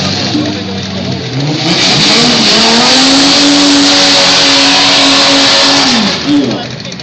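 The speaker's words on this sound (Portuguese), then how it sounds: "Aquecendo pneus. É para isso que serve o burnout, né?" Drag racing car doing a burnout at a Blumenau drag strip event, warming its tyres: a loud, sustained engine roar with revving and tyre squeal that holds steady for several seconds before easing off.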